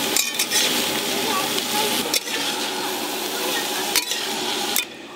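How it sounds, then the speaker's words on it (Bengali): Green beans and carrots fry in hot oil in a home kitchen, a dense, loud sizzle running throughout with a few sharp clatters of a utensil against the pan, broken briefly near the end. "তেল গরম হয়ে গেছে, বিনস দেব। বিনস দিয়েছি, তার সঙ্গে গাজরও দেব।"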